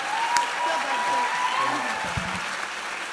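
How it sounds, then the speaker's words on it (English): An audience at a college fall convocation keeps clapping, a dense wash of applause with a voice briefly talking over it near the end. "Give him one more big round of applause"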